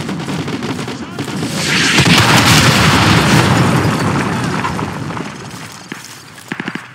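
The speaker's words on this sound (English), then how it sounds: "Fire mission received. Artillery inbound. Coordinates confirmed. Firing." Artillery strike explosions in Call of Duty: Modern Warfare 2, a loud rolling series of deep booms swelling into a sustained rumble that fades, followed by a few sharp pops.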